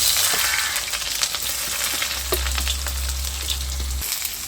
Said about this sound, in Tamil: கடுகு நல்லா பொரிஞ்சிடுச்சு வெங்காயம் சேர்த்துருக்கோம் இப்போது